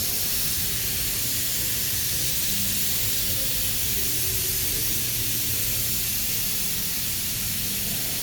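A spray gun lays clear coat over gunmetal gray automotive paint, giving a continuous, even hiss of atomized spray that stays steady and close throughout with no pauses.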